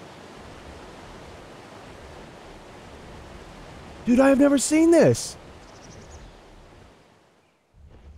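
A waterfall in a cave in the video game ARK: Fjordur makes a steady, even rushing hiss throughout, with someone briefly speaking over it midway before the roar fades near the end.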